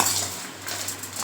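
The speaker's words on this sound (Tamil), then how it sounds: "இந்த துவையலுக்கு தேவையான அளவுக்கு உப்பு போட்டு இதை நல்லா மிக்ஸ் பண்ணிப்போம்." A utensil stirs roasted coconut with salt in a metal pan for a Tamil coconut chutney, giving continuous close scraping and light clinking without talk.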